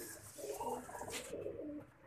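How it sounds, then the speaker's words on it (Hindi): A Mohar-type fancy pigeon coos close by, a soft throaty rolling call repeating through the moment, fairly quiet against light background noise. "2020 मोहर वाला कबूतर फेसबुक वाले स्टाइल में दिखा रहे हैं।"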